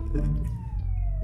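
A police siren in the Euro Truck Simulator 2 driving game gives one brief, loud wail that glides steadily downward over engine rumble.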